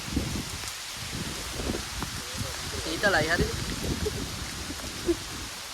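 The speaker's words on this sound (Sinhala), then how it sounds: "ඒ වුණාට හයියෙන් වහිනවා." Heavy rain patters and hisses all around while climbing Pansal Gala rock, with a person speaking briefly over it.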